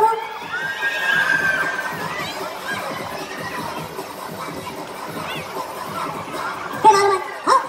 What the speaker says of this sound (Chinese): 可以欢呼，可以欢呼。